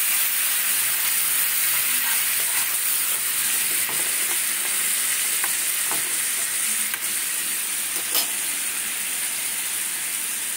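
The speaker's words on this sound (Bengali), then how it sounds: "এবারে সর্ষে, কালো আর সাদা সর্ষে যেটা রেখেছিলাম এটা দিলাম।" Black and white mustard seeds hit hot oil in a pan and sizzle with a steady bright hiss and crackle, close and continuous, broken by a few sharp pops.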